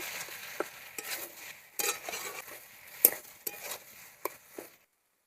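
Banana stem and pumpkin with spice paste fried in a pan, a soft sizzle broken by about eight sharp spatula knocks and scrapes against the metal, ending in silence.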